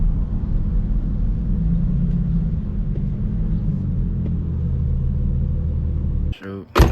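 Infiniti G37 coupe with a full titanium Tomei exhaust, ridiculously loud, holds a deep, steady low rumble close by for several seconds before it cuts off abruptly near the end, followed by a brief burst of other noise.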